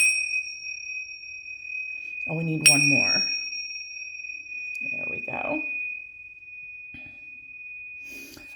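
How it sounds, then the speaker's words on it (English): A bright, sustained ring from small tincture bells hangs in the air, struck again as a person speaks briefly in between. "I'm going to give them a hit of vibrational cleansing with the tincture bells"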